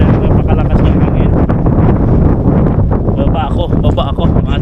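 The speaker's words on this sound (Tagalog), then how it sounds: "baba ako ng konti mga tolits dahil napakalakas ng hangin" Strong wind buffeting the microphone outdoors while travelling in Pangasinan, a loud continuous roar and rumble that fills the whole stretch.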